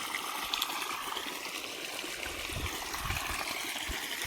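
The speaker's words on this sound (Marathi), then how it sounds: "आता झालं पाणी चालू आपलं आता आता येते पाणी हळूहळू खाली" Water flows from a reconnected hose pipe outdoors, a soft steady trickle and gush heard faintly and alone, with no voices.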